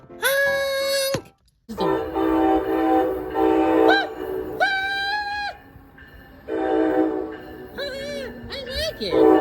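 Horn of an Amtrak ACS-64 electric locomotive sounding several loud, sustained chord-like blasts, some long and some short, with brief gaps and pitch bends between them.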